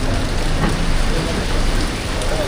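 Heavy rain pours steadily over Siam Square in Bangkok, a dense unbroken hiss of drops on pavement and surfaces with no break across the stretch.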